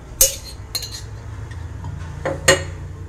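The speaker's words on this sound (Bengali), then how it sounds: "খুঁতি দিয়ে একটু চারিদিকে করে দেব।" A metal spatula spreads a little oil over a hot tawa griddle for cooking paneer paturi, making a few sharp metallic clinks and scrapes over a low background hum.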